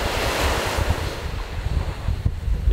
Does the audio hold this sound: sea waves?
yes